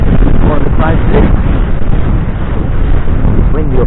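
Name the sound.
wind blowing on hilltop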